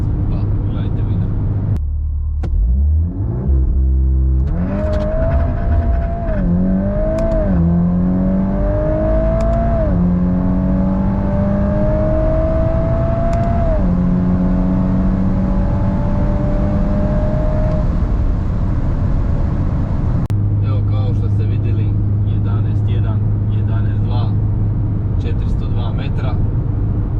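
A stage 2 tuned VW Golf 8R launches and pulls hard through several gear changes on a quarter-mile run, engine note climbing in repeated rising sweeps before settling into a steady roar; loud and close throughout.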